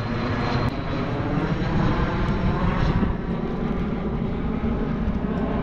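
Fixed-wing airplane passing overhead in New Zealand, a loud, continuous engine roar that holds steady throughout with no talk over it.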